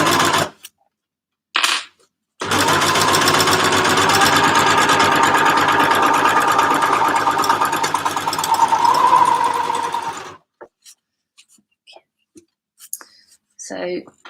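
An overlocker stitches a waterproof drawstring bag in one continuous, loud run of about eight seconds, a steady fast mechanical whir that cuts off abruptly, with a short burst of machine noise just before it and soft clicks and handling sounds afterward.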